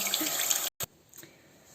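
A bathroom tap runs into a sink as warm water is sought in a morning face-washing routine, a steady hiss that cuts off briefly, spurts back, then gives way to quieter dripping and handling sounds.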